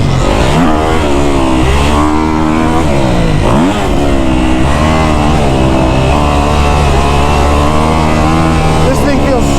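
A Kawasaki KX250F dirt bike is ridden hard, its engine loud and close, revving up and down through throttle changes with a brief dip before climbing again.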